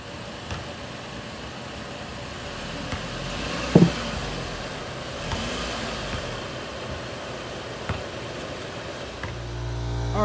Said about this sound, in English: pull the car up on the ramps